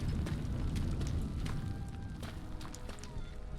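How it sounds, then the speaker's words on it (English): A deep, rumbling video game explosion in Tales of Arise rolls through, with heavy low-end crackle and scattered bursts, like a distant blast sustaining under the noise. "Sounds like there was an explosion along the tracks."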